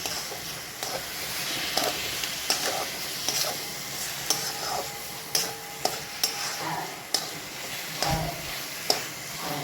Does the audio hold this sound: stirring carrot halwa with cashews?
yes